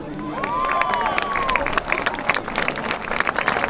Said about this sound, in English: let's give nice one more round of applause for this year's Hall of Fame inductees